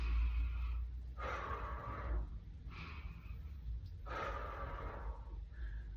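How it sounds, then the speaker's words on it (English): Forceful breaths during a deadlift, with three or four rushing inhales and exhales in a slow rhythm over a low rumble, close and fairly quiet, with no talk. "inhale during the setup phase or the reset phase, and exhale during the hard part, the exertion phase"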